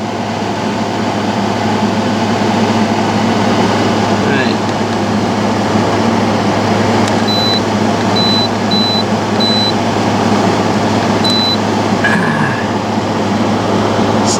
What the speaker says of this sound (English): Air conditioner is on.